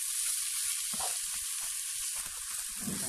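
Vegetables frying in oil with minced meat kofta in a pan, a steady bright sizzle throughout with a few soft scrapes of stirring.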